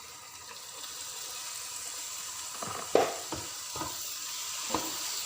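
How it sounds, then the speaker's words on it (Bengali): Chopped tomatoes stir-fry with masala in a pan for a mutton paya curry, a soft sizzle under a run of spoon scrapes and taps in the second half, fairly quiet, with no talking. "টমেটোকে মশলাটার সঙ্গে বেশ 5 মিনিট ধরে এটাকে আমি মিক্স করে নেব।"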